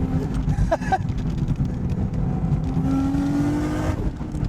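Single-turbo Nissan Skyline GT-R with a billet compressor wheel accelerating hard onto boost, a loud steady engine drone rising in pitch near the microphone, continuous for several seconds without talk.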